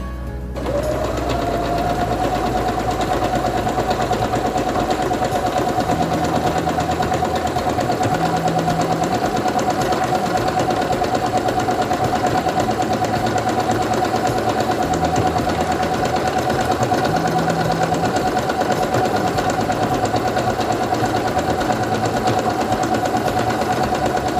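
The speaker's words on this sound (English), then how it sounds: "I'm going to take my fabric and put it under the presser foot, lower it, and begin sewing." A Singer Quantum Stylist 9960 sewing machine stitches fabric in one steady, loud mechanical whir that runs unbroken for over twenty seconds, close up, with a faint periodic rhythm under the motor hum.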